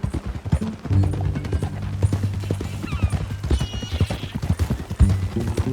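Rhythmic clip-clop of horse hooves at a steady walk in Red Dead Redemption 2, close and continuous, under a low rumble with a brief whinny-like squeal midway.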